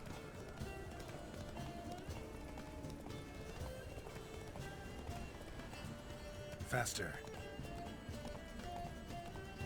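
A horse gallops in The Witcher 3: Blood and Wine, its hoofbeats running as a steady drumming under near-constant talk, with a brief sharper burst midway.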